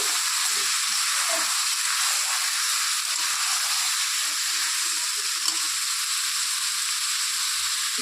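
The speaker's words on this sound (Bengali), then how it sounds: "আদা বাটা কাঁচা লঙ্কা বাটা রসুন বাটা আর সামান্য কিছুটা পেঁয়াজ আছে বাটা সব কিছু মিশ্রণ দিয়ে দিচ্ছি" Ginger, green chili, garlic and onion paste fry in a pan, a steady close sizzle and hiss carrying on evenly throughout, with no voices.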